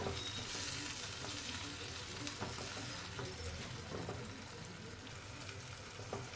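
Tomato paste sizzles and fries in a pan with chickpeas while being stirred, a steady close crackle with faint scraping strokes throughout and no talking.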